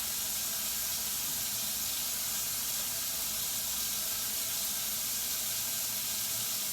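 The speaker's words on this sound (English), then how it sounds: "I'm just wringing it really, really hard until there's not any water dripping out." Water running from a rinsed cloth diaper being wrung hard by hand, a steady close hiss of spraying and splashing liquid that continues without a break.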